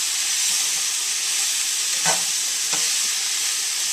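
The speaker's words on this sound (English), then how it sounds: "I'm going to do a quick stir" Spinach sizzles and fries in a skillet, a steady bright hiss throughout. Two quick scraping stirs of a utensil cut through the sizzle near the middle of the clip, close and clear.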